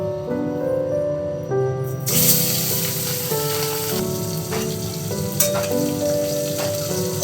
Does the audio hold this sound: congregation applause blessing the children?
no